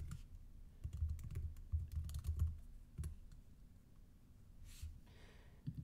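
An email address is typed on a computer keyboard in a rapid cluster of clicks, then keystrokes trail off into quiet with a soft breath.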